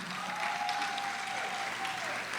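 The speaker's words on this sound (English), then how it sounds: "Let's give him a round of applause" Steady applause from the audience at a senior women's pageant in Washington, DC, a dense even patter of many hands with a faint tonal whine running through it.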